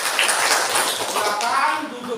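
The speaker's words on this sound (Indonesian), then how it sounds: "tepuk tangan untuk Repa dulu." Classroom students clap for a classmate after a maths lesson answer, a short burst of brisk clapping mixed with children's voices talking over it.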